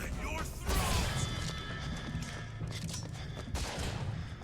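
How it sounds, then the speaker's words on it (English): Gunfire in the video game Bioshock Infinite comes as bursts of sharp shots and impacts amid chaotic game noise, with voices speaking over the action. "Shooting!"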